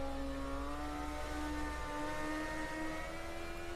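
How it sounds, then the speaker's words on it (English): A 1980 DRM Division 2 race car at Spa downshifts, its engine droning steadily with shifting whine and rev changes, heard continuously and fairly loud through the passage. "Downshifting for Lake Home."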